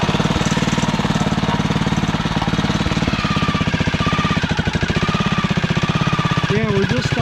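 A REO trike engine idles steadily with a fast, even chugging pulse, close and loud throughout, with some voices talking over it.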